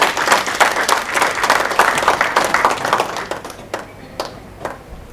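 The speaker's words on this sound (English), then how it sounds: "A round of applause for Dr." Conference audience applauds a speaker being introduced, dense clapping for about three seconds that thins into scattered claps and fades out.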